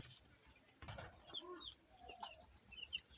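Ten broiler chicks in a small home farm pen give faint, brief high peeps scattered through a quiet room.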